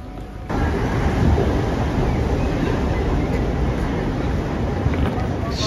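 Train rolling into Sweden from Copenhagen, a steady loud rumble of wheels and carriage noise filling the whole stretch, starting with a sudden rise just after the opening, with faint voices mixed in.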